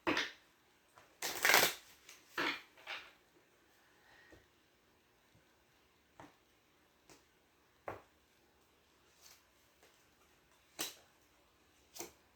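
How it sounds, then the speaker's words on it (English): Tarot cards are shuffled close by in several brisk riffling bursts, followed by sparse single taps and flicks of cards against quiet, with no talking. "One more shuffle."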